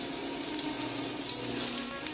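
Floured veal fillets fry in a hot, oily pan with a steady, close sizzling hiss that holds evenly throughout.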